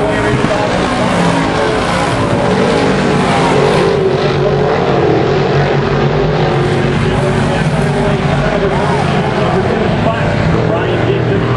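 358 modified race cars roar around the Mohawk International Raceway oval in a loud, continuous engine drone that swells and fades as the spaced-out pack circles, with a commentator talking over it throughout.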